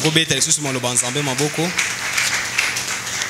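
A church congregation in a French-language service applauds and cheers while a voice speaks loudly over the opening; the clapping carries on steadily after the voice stops.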